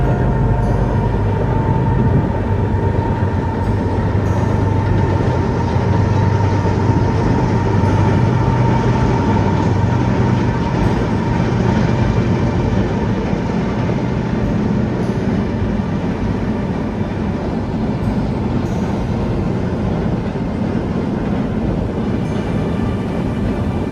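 A Via Rail passenger train rolls slowly past near a trestle, a loud, steady rumble and rattle of wheels and cars that holds unbroken for the whole stretch, with no voices.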